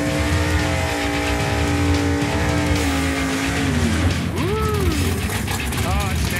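Lightweight race car on a drag pass, engine howling with a rising then dropping pitch before sharp shifts, loud and close, with voices chattering over it.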